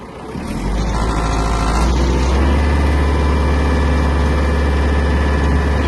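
A Mitsubishi MT-246 Japanese mini tractor engine runs steadily in its lowest gear, a loud, close, even diesel drone that rises at the start and holds constant while the tractor creeps slowly forward.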